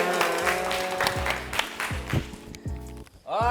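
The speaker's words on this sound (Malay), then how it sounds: "Alright, tepukan untuk Irsya" An audience claps in applause, a loud burst of hand claps that thins out toward the end, with a voice briefly heard at the close.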